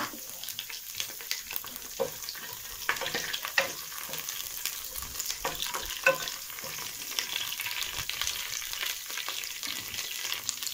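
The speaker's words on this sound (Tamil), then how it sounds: "ஆயில் சூடானதும் பிரிஞ்சி இலை, ஏலக்காய் போட்டுக்கலாம்." Bay leaf and cardamom fry in hot oil for mutton kulambu, giving a continuous close crackling sizzle with small pops and occasional stirring scrapes throughout.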